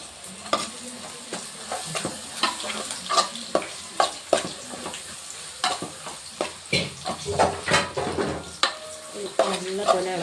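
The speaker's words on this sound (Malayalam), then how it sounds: "നല്ലപോലെ ഇളക്കി മിക്സ് ആക്കിയിട്ട്" Masala being stirred in a pan for a homestyle crab curry with curry leaves, giving repeated scraping strokes and bursts of sizzle at close range, with no talk.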